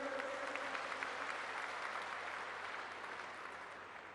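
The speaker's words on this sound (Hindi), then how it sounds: "अब हमारे उत्तर प्रदेश से जो साथी आए हैं उनके लिए जोरदार तालियां बजाइए।" Loud, steady applause from delegates at a national conference of elected representatives fills the clip without pause, thinning slightly toward the end, with no talking over it.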